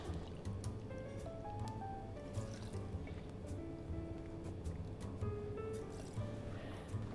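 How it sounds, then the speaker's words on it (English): Seedlip non-alcoholic gin is poured into a cocktail, two ounces in all, making a faint liquid trickle and dribble against a quiet background, with small drips and a soft rising fill tone. "Next up is 60 mils or 2 ounces of the Seedlip"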